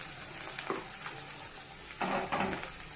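Onions frying in a pan as half a teaspoon of turmeric goes in, a quiet, close sizzle with a few soft stirring scrapes and louder bursts near the end.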